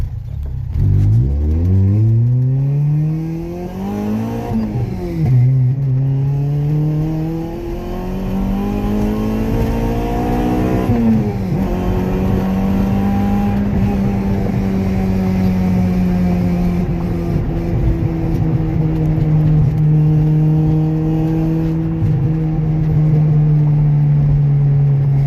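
A Honda Civic with a swapped H22 engine and a limited-slip differential accelerating hard, revs climbing through several gears with brief drops at each shift, a loud, close engine roar that holds steady toward the end.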